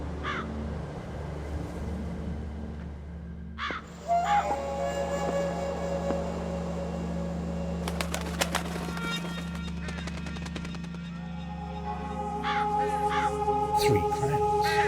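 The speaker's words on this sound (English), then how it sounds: "Large black crows." Large black crows cawing in the ghost-hunting adventure game The Lost Crown, harsh repeated calls over a steady low ambient drone, with bursts of rapid clattering noise in the middle and more caws near the end.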